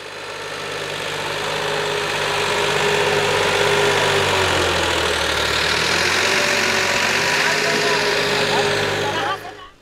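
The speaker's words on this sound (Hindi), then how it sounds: "देखिए एक अकेला ट्रैक्टर ही कितनी आसानी से इस गीले खेत में भी वजन खींच रहा है" A heavy tractor engine pulling a PTO trolley loaded with sugarcane through a wet field drones steadily and loudly throughout, with a low chugging rumble and some vibration, close up, before cutting off at the end.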